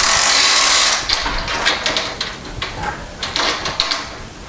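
Ratchet hangers raising grow lights inside a grow tent, a series of sharp clicking ratchet pulls after an initial loud burst of whirring noise, close and irregular.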